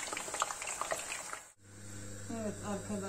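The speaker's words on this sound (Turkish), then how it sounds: "tekrar kızartıyorum arkadaşlar" Meatballs and vegetables frying in a pan give a bright, steady sizzle, with someone talking over it before a short break, then a lower bubbling sizzle under a continuing hum.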